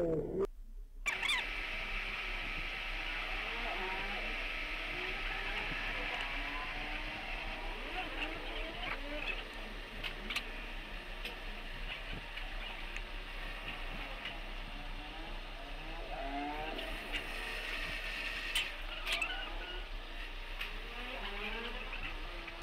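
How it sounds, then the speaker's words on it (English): A manual lathe turns a brass shaft to final size, producing a steady faint mechanical hum with light cutting hiss and occasional small clicks throughout. "So very smoothly this manual lathe machine is turning this brass workpiece."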